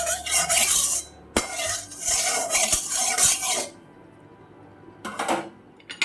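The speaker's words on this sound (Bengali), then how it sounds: "তেলটা একটু ছড়িয়ে নেব চারদিকে।" Hot oil is swirled and spread around a metal kadai (wok), with rasping metallic scrapes and clinks in quick bursts, a short pause, then another brief scraping stroke.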